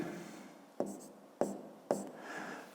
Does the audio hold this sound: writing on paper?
yes